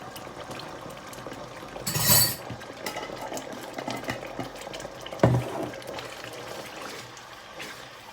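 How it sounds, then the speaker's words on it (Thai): Water poured into a pan while cooking a sweetened sauce for crispy fried salmon scraps with chili and ginger, heard as two short splashing bursts over quiet kitchen background. "ใส่น้ำลงไปจะเติมน้ำ"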